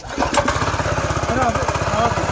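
An engine revved with the throttle, giving a close, loud, rapid pulsing chug that holds steady throughout while people talk over it.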